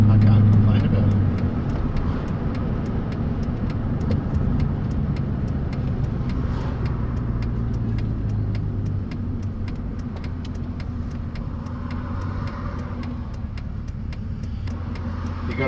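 Ford XD Falcon V8 car engine running steadily close by, a low continuous rumble with a choke issue, while someone talks over it throughout.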